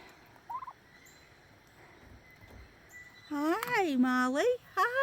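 A turkey gobbles loudly and close by in a garden, a rapid warbling call lasting over a second, followed by a shorter second gobble, after quieter background sounds and a brief chirp.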